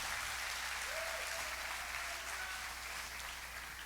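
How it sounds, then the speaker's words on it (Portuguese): A church congregation applauds during a Portuguese-language sermon, a faint, steady wash of clapping heard from a distance, with no talking over it. "Se quiser aplaudir, o Senhor pode aplaudir."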